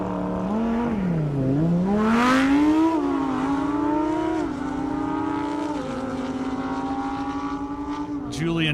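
A Lamborghini Huracan roars at full throttle down a half-mile airstrip at an Indy speed event, its loud, close engine note climbing in pitch and dipping at gear shifts before pulling hard again.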